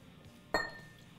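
A single bright clink rings out from a 2-ounce shot glass as bourbon is poured, a short glassy ping that fades quickly in a quiet room.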